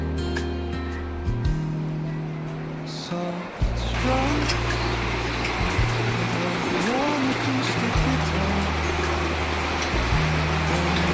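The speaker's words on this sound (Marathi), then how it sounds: "पाऊस पडते जोरात" Heavy rain pours down in a dense, steady hiss, with a low droning hum running underneath throughout.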